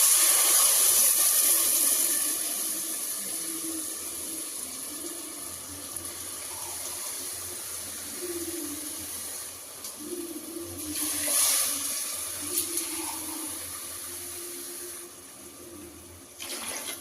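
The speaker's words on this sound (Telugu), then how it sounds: "ఇప్పుడు నేను 2 గ్లాసులకు 4 గ్లాస్ వాటర్ పోస్తున్నా" Water poured steadily into a cooking pot over two glasses of rice, a continuous running splash that is louder at first and then settles into a softer trickle with a few brief surges.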